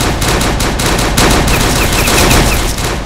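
Cannon fire in the online shooter game Uber Strike booms in rapid, continuous bursts, loud and close, with no talk over it.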